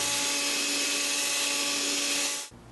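A dog runs its own household vacuum cleaner, a loud, steady whining drone with a constant hum that carries on alone, then cuts off abruptly near the end.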